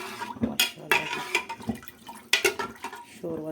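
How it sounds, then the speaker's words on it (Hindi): Water pours into a cooking pot of degi pulao with desi chickpeas, heard as a few splashing bursts close by, mixed in with someone talking. "पानी डाल दूँगी।"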